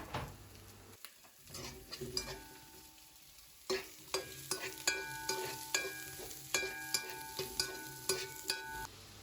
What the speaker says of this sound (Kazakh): Сәбіз бен картопты салып, кішкене қуырып аламыз.